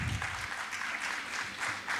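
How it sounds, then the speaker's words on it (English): Audience applause at a business excellence award ceremony, steady dense clapping from a seated crowd lasting a couple of seconds at moderate volume, with no talk over it. "Can we have a huge round of applause for them?"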